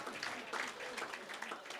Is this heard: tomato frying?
no